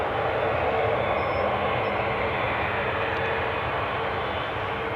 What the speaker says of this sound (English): that was in fact a very smooth touchdown